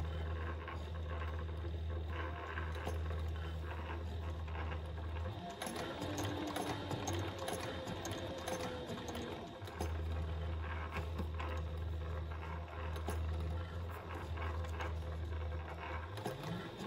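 A sewing machine stitches a courier pouch, its motor running in a long steady burst in the middle of the stretch and picking up again near the end, over a constant low electrical hum.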